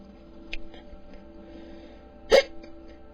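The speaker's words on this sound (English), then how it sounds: "I've had these hiccups for about 4 hours now." Hiccups from a person four hours into a stubborn bout: a faint one near the start, then a single sharp, loud hiccup against quiet background hum.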